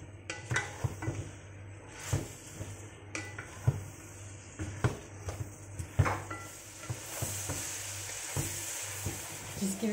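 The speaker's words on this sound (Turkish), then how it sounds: "Ciyərləri birinci qızardıram" Small pieces of chicken liver fry in oil in a pan, a constant close sizzle broken by repeated clinks and scrapes of a utensil stirring against the metal.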